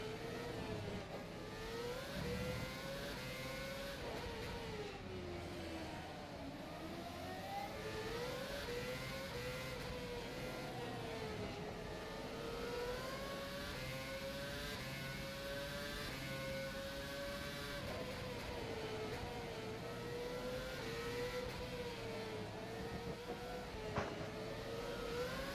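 A Formula One car in the rFactor 2 racing simulator, engine droning steadily at close range with rising and falling revs through corners and straights, continuous throughout with no talk.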